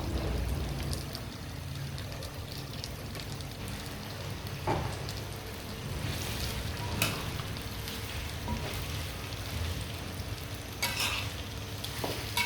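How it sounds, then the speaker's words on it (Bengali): Olives being stirred with spices in oil for a pickle, a constant close sizzle with scattered scraping and clacking of a spoon against the pan, no one talking. "খুব সুন্দরভাবে মশলার সঙ্গে মিশিয়ে নিচ্ছি জলপাইগুলো।"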